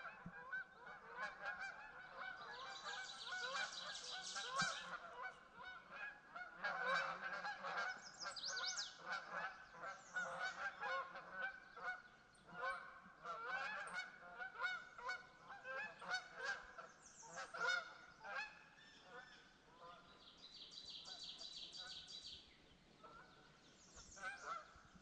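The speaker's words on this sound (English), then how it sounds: "The Canadian honkers are heading back to Canada. Yeah, they're flying due north." Canada geese flying due north on a spring morning, a flock honking continuously with overlapping calls, fairly near and steady throughout.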